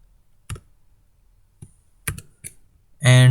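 Computer keyboard keys are pressed for copy and paste shortcuts, a handful of sharp isolated clicks spaced irregularly over a few seconds, followed by a voice starting to speak.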